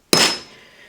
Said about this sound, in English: you provide just a couple of nice hits with the hammer here